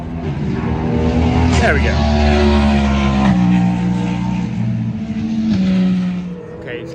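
Race cars roar past at the Le Mans circuit, loud and close with strong harmonic engine tones sweeping down in pitch as a car passes, under a brief spoken remark.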